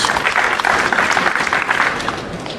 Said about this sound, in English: the crowd gives a nice, polite round of applause